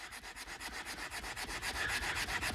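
A scrub towel with cleaner scrubbing a boat's interior surface, steady rhythmic back-and-forth rubbing strokes, close and fairly quiet, with no voices.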